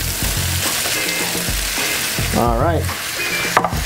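Shrimp frying in a pan with chorizo and caramelized onions, a steady close sizzle with stirring scrapes and clacks throughout, and a brief spoken remark near the end.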